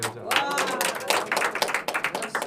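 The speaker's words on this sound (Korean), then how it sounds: "박수 한번 드릴게요" Scattered, lively clapping from a lecture audience applauding an eager participant, brief bursts of hand claps with a voice speaking over them.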